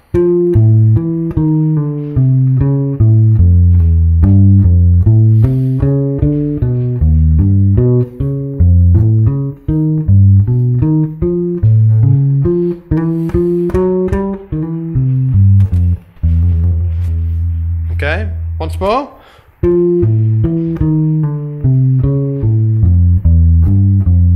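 A bass guitar plays a slow melodic lick, each note plucked distinctly and sustained, with a brief high harmonic squeal near the end.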